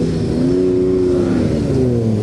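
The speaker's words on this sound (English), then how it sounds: "The number 92 car is absolutely revving it." The number 92 classic race car revs its engine at Silverstone during a summer classic meeting, a loud, close, sustained mid-pitched engine roar with shifting tone and no talk.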